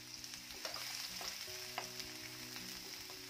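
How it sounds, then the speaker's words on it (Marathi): Finely chopped onion frying in hot oil for an okra dish, a faint but steady sizzle with soft crackles and occasional light stirring taps, close up and without any talking. "तेल चांगलं गरम झालं की यामध्ये एक मोठ्या आकाराचा कांदा आहे जो मी अगदी फाईन चॉप करून घेतलेला आहे"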